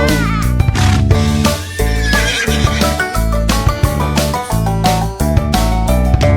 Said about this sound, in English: With a neigh-neigh here and a neigh-neigh there, here a neigh, there a neigh, everywhere a neigh-neigh